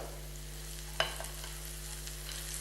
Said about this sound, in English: So let this saute a little bit and let it, render its flavors to the oil.